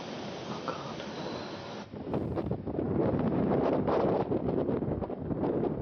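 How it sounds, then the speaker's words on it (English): Strong wind gusts roar and buffet steadily outdoors, growing louder partway through, with rustling throughout and no talking. "the wind outside is blowing"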